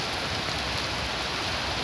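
Heavy rain falling harder over the São João neighbourhood in Porto Alegre's north zone during a downpour after extreme heat, a steady, dense hiss of broadband noise that stays loud and even throughout, with no voices.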